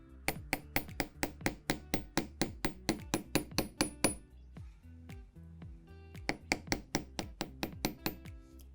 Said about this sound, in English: I'm taking my hammer and my bench block